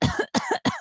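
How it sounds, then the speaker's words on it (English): Three short, close coughs in quick succession from one person, each a sharp burst. "I've developed a tiny cough"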